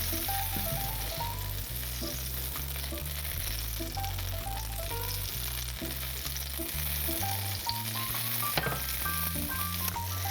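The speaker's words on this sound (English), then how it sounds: "add a tablespoon of butter. I'm just going to swirl those in the pan" Olive oil and butter sizzling in a pan before salmon goes in, a soft frying hiss sitting under a loud tonal melody of background music that plays throughout.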